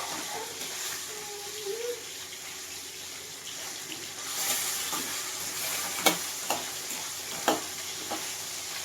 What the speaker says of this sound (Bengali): এইভাবেই পুরো মাছটা আমি ভেজে তুলে নেব